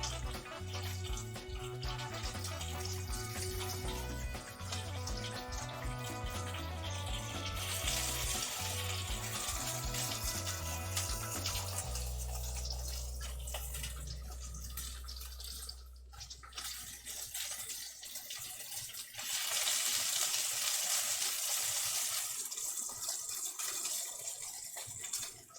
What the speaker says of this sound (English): doing a little beef frying action.